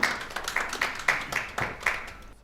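Applause at a founding general assembly: scattered hand claps from a small audience in a hall, irregular and fairly close, tapering off at the end.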